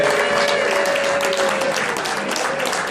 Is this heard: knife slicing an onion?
no